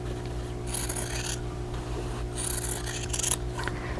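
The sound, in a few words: cutting quilt fabric between two sewn lines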